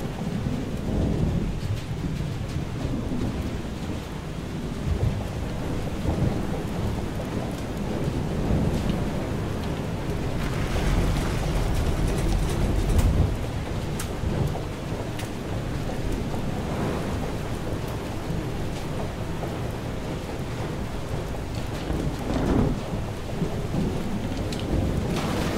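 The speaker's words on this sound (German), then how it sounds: "Der zweite Sturm, diesmal ohne Segelschäden" A storm at sea in the game Far: Changing Tides brings dense, unbroken rainfall, gusts of wind and repeated low rolls of thunder that swell and recede over about half a minute, with no one talking.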